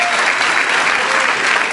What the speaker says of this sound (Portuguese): Quantos podem dar um aplauso ao Senhor Jesus nessa noite?